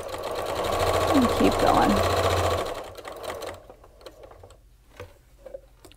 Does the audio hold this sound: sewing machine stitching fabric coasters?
yes